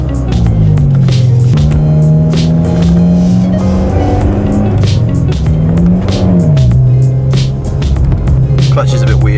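A Renault Scenic RX4 under restoration, with a weird clutch and spongy brakes, drives along with a loud, steady engine drone that rises and dips in pitch as it changes speed, heard close from inside the car.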